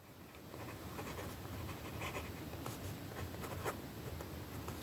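A broad JoWo steel fountain pen nib writing on paper, a faint continuous scratchy stroke sound close up with small ticks as letters form, quiet throughout with no talking.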